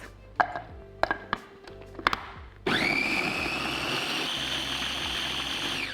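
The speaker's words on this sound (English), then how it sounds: "So I'm going to give this a whiz now" Several sharp knocks and taps are followed by a blender starting up and whirring steadily as it purees avocado chocolate mousse, loud and close, with no voices.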